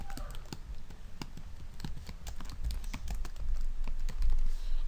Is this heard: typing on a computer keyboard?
yes